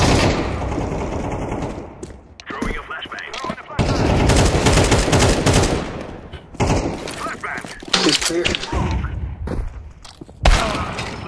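Rapid pistol fire and other gunshots from a Counter-Strike 2 casual match come in loud bursts with brief gaps, mixed with players talking.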